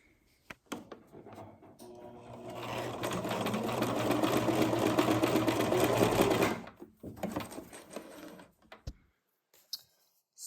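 A sewing machine stitches a straight quarter-inch seam on quilting fabric, a rapid rattling hum that builds over about five seconds and cuts off, framed by scattered clicks and handling noise.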